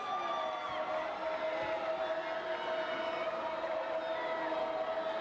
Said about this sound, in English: This crowd's just not going to give up on it.